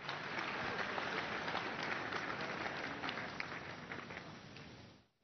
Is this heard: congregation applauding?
yes